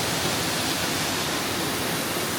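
Paddy's Falls waterfall roars in a steady, broadband rush of falling water, loud and close, with no change or pause across the whole stretch and no voices.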